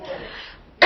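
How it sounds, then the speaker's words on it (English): Quiet background, then a single sharp, close cough bursts out at the very end. "I got a cough. Sorry."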